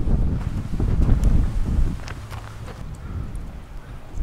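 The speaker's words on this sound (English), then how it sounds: "Oh, it's too windy" Gusty wind buffets the microphone with low rumbling blasts, strongest at first and then easing into softer gusts.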